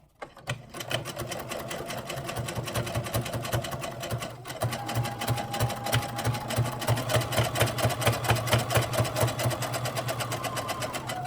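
A sewing machine runs steadily while top stitching a prepped frame, a continuous close whirring hum with a fast needle rhythm that barely pauses once near the middle.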